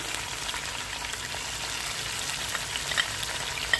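Meat for arvi gosht hits a hot pot over fried onions, setting off a dense, even sizzle with scattered small crackles, close and continuous throughout.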